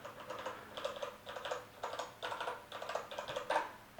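Typing on a Kinesis Advantage2 ergonomic keyboard produces a steady run of close, crisp key clicks in quick bursts, with no voice over it.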